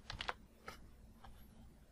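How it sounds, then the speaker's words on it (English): Light typing on a computer keyboard, a quick burst of clicks followed by a few scattered single keystrokes, quiet and close with no voices. "I just like clicking on the title and then typing in the title manually"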